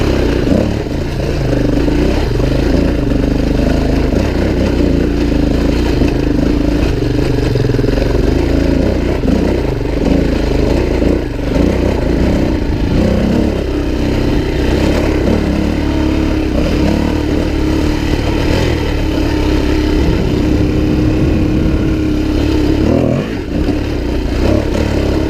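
A Suzuki DRZ400e motorcycle pulls away in second gear on a smooth throttle roll-on, its single-cylinder engine droning loud and steady throughout with a constant rumble and no talk.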